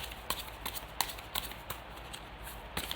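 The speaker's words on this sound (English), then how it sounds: "One final shuffle after this one" Tarot cards are shuffled in quick riffling bursts, a soft papery flutter with sharp snaps every few moments, fairly quiet and close.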